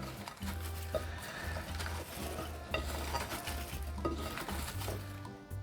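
Potatoes being tossed with oil before baking, mixed by hand in a small bowl: a busy, continuous wet rustle and slippery shuffling, with occasional light knocks against the bowl.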